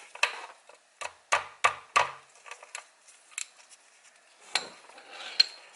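Metal clicks and scrapes from a 17mm socket working loose the oil drain plug on a BMW i8, a series of sharp, close taps and ratchet-like knocks with short pauses between them.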